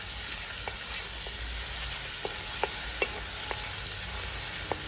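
Oil crackles and sizzles steadily in a hot pan as a spoon scrapes through it in several light, separate strokes, close up, with no voices.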